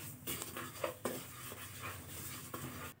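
Semolina mixture with ghee and a pinch of salt stirred in a pan, soft scraping strokes and a low sizzle in uneven bursts, close by and fairly quiet, with no one talking.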